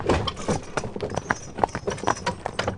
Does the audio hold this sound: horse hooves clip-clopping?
yes